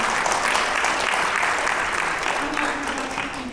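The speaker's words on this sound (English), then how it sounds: "On applaudit très fort, ladies and gentlemen. Give it up to Saskia." An awards ceremony audience applauding loudly and continuously, a dense wash of many hands clapping in a room, with some voices mixed in.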